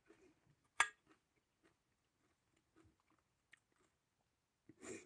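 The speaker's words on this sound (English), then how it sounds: "These pickles are quite crunchy." Crunchy pickles are bitten and chewed close to the microphone in a quiet room, with a sharp crunch near the start, soft intermittent chewing, and another louder bite at the end.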